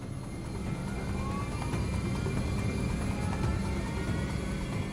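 Jet engines of a Delta Boeing 727 spool up for takeoff at runway power, a steady, loud broadband roar with a faint rising whine, continuous and without speech throughout.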